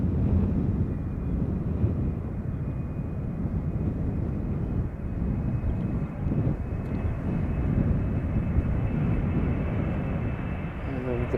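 Airbus airliner arriving on the center runway at Amsterdam Schiphol Airport, a steady broad jet-engine roar with wind buffeting, continuous and fairly loud throughout, with a voice speaking over it.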